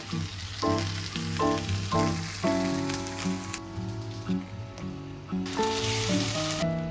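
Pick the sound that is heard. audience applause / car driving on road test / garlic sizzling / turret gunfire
garlic sizzling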